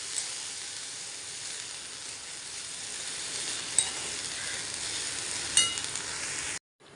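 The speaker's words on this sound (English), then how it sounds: "Stir well." Moringa leaves and red chowli curry fry in a pan, a steady loud sizzle with a couple of sharp scrape clicks as the mixture is stirred, no voices.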